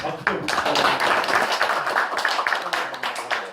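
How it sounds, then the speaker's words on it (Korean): Applause from a small room of people at a Korean company partnership event, a dense patter of claps that runs steadily for several seconds with some voices mixed in. "박수."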